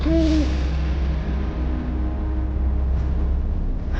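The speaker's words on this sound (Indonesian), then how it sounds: "Suara burung hantu." A single short owl hoot sounds at the start, wavering and fairly clear, over a steady low rumbling background that continues afterward.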